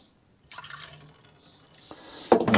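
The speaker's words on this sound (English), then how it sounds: "I might drain off that bit of water." Water drained off defrosted food from a cake tray, starting as a short splashy pour, then thin trickling and dripping, and ending in a louder, closer burst of pouring liquid.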